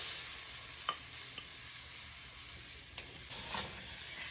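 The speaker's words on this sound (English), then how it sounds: "Just gonna throw in my egg whites." Egg whites hiss steadily in a frying pan while a utensil scrapes and stirs them in a few brief clicks, close and fairly quiet, with no voices.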